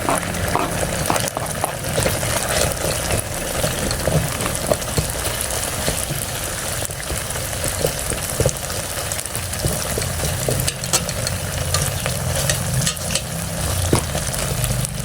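Garlic sautéing in a hot pan while making a bitter gourd (ampalaya) dish, a steady close sizzle and crackle of frying that runs unbroken with occasional stirring clinks, no voices over it.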